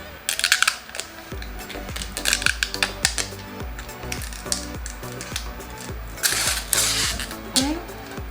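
Plastic protective film is peeled off the frames of new Zeelool glasses, giving a series of close crinkling, rustling and small clicking handling noises in uneven bursts with short pauses between.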